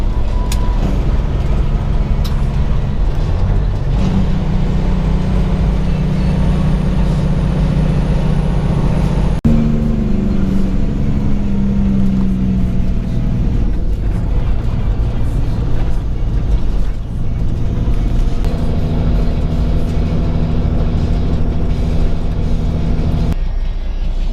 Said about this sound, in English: Engine braking prohibited. Don't mind if I do.